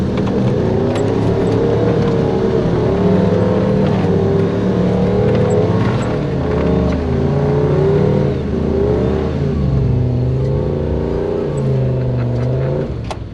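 A Toyota Land Cruiser BJ40 with a 1UZ V8 and manual gearbox drives up a grassy off-road slope, its engine droning loud and close and rising and falling steadily as the revs are held.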